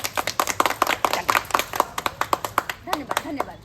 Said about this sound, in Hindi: हाँ ताली मारिए।